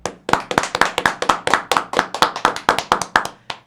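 Close, steady applause from a small studio audience welcoming a neurologist guest onto a talk show, a dense run of sharp claps lasting a few seconds with no talking.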